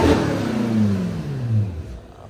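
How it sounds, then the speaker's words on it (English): A BMW M5 Competition engine is revved once nearby, rising to a loud roar and then falling away as the revs drop over about two seconds, with no talk. "Rob is getting a little excited over there, revving the engine."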